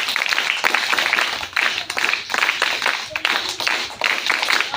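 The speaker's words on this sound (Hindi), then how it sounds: "तो चलिए सामान्य ताली के लिए रेडी? चलिए स्टार्ट।" A class of schoolchildren clapping together in unison, a dense steady burst of hand claps that fills the whole stretch, close and loud with slight rhythmic surges.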